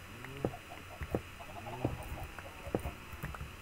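Chickens in the Minecraft video game give a few soft, short clucks at irregular intervals over a low steady hum, with no voices present.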